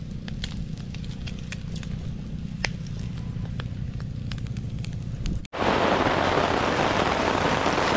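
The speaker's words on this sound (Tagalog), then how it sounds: "Ayun, habang nagluluto kami ng hapunan, lumakas ang ulan." Heavy rain pours down on a van camp, a steady dense hiss that falls briefly quiet before surging into a louder, broader roar of downpour, with no voices.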